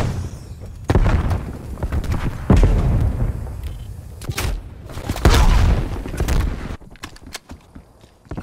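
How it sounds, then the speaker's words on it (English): Napalm strike in Call of Duty Black Ops Cold War: several heavy booming blasts and crackling bursts land in succession, loud and close, with rumbling fire between impacts and a quieter tail. "Napalm on target."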